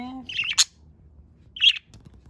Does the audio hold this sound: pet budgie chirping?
yes